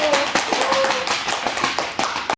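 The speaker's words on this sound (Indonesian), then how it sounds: "Beri aplaus temannya" Classroom applause for a group presentation, a dense patter of many hands clapping at close range, steady for a couple of seconds before stopping abruptly.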